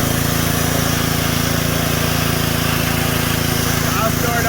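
A pressure washer runs steadily while power washing house siding, a loud continuous engine drone with hissing spray noise throughout, close by and unbroken.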